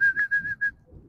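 A person whistles to call a dog, sending out five short, bright, fairly loud whistle bursts in quick succession, followed by a quieter stretch with low background noise.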